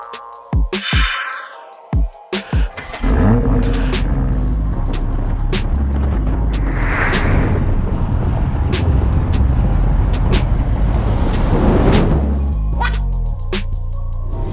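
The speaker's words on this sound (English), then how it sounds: "so let's get this car on the road" A 2019 BMW X4 M40i pulls away on the road with a steady engine drone and tire rumble that swells and holds, after a few sharp clicks and thumps at the start.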